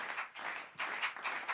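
A small group claps and cheers briefly to welcome a friend named Ashley, in a few short bursts of scattered hand claps at close range.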